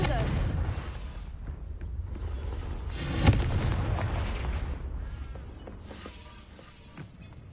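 A Confringo spell in the Hogwarts Legacy video game bursts into a loud, rumbling explosion that swells and slowly fades, with a sharp crack near the peak and game voices heard faintly behind it.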